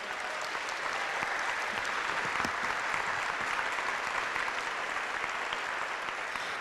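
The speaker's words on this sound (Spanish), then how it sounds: "pido un especial aplauso a Valentina Moreno, la directora del coro" Steady, dense applause from a large audience at a talk on feminism and non-sexist education, sustained and even throughout with no pauses or speech over it.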